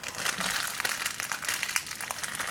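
Packaging around a Phantom Orion BD spinning top being torn and opened, a close, continuous rustle of crinkling plastic and paper with small sharp crackles.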